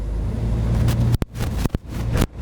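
A 1979 Camaro barn find rumbles steadily through a tunnel, its low engine drone filling the enclosed space, broken by a few sharp bursts and quick dips near the end.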